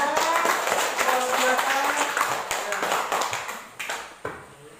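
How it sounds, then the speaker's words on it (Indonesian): A classroom of students applauds a student group that has just presented its discussion results, dense clapping over scattered voices that thins and fades toward the end. "tepuk tangan untuk kelompok"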